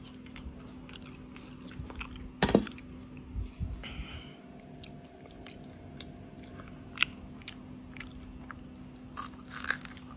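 Crispy deep-fried potato from a street snack stall in Weishan, Jining, bitten with a sharp crunch, then chewed with a string of smaller crackly crunches, close to the mouth, with no talk.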